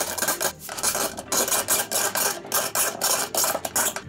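A utility knife scraping plastic clean while a cheap cyclone sawdust separator is built, giving rhythmic rasping strokes in a steady back-and-forth pattern, close and fairly loud with no talk.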